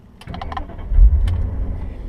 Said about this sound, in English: push the clutch all the way in order to start the car, and then either turn the key or push the ignition